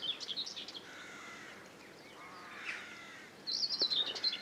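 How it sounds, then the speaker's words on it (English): Crows caw in a quiet riverside setting near Bodiam, with bright chirping bursts at the start and end and softer harsh calls in between, fairly near. "There's just the cawing of the crows in the background."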